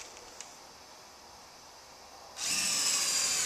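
A power drill drives screws into wall sheathing on a house under construction, starting abruptly and whirring loudly and steadily after a stretch of quiet room tone.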